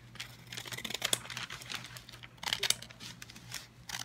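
Christmas wrapping paper being cut and folded around gifts: close crinkling rustles and a few snips in irregular bursts over a steady low hum, with no talking.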